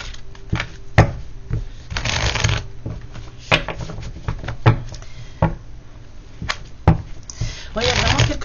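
Tarot cards are shuffled in repeated riffling bursts with sharp taps and flicks between them, close and fairly loud, with no talk over them.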